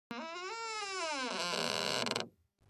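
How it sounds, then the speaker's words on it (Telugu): Window shutters in a house at midnight let out one long, drawn-out creak of about two seconds, rising then sliding downward in pitch and standing clearly alone in a quiet room. "కిటికీ రెక్కలు కిర్మంటూ శబ్దం చేశాయి."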